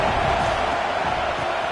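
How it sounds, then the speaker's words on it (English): A home crowd at a Trojans football game roars in a steady, dense wall of cheering that holds loud and unbroken throughout. "how nice is it to have the home crowd going absolutely bananas?"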